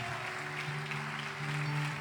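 A church congregation applauds steadily, a soft, continuous wash of clapping with a low sustained musical tone underneath.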